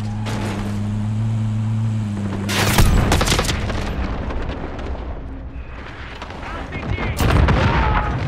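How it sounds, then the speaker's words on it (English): Cluster strike explosions in Call of Duty: Modern Warfare: a series of heavy booms and rumbling blasts hit close together, mixed with gunfire and battlefield noise. A low tone drones under the opening, and a second loud burst lands near the end. "Friendly cluster strike inbound."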